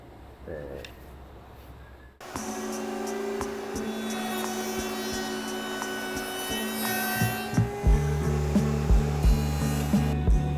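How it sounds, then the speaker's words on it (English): A router cuts a chamfer along the edge of an alien-facehugger-themed skateboard deck. The motor whines steadily and loudly after a sudden start, and a run of rhythmic knocks comes near the end. "we're gonna try routing it now, putting on the chamfer"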